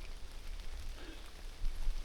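Light drizzle falls on a foggy mountain trail on Mount Argopuro, giving a soft, steady hiss of fine rain with a low rumble beneath and no talk.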